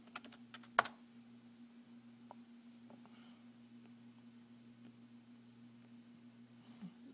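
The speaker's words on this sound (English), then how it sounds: "I gotta type help." A few light keyboard taps, typed at a VirtualBox console while installing 64-bit PC-BSD, click near the start. A faint steady electrical hum then fills a long, otherwise quiet stretch.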